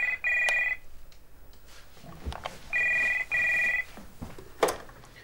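A landline telephone rings indoors in two bursts of trilling bell tones, with a pause and background clatter between rings.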